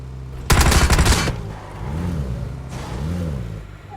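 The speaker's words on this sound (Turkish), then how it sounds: "Biri bana sıktı ha." Video game gunfire opens with a loud, rapid automatic burst lasting under a second, followed by quieter engine-like hums from the game.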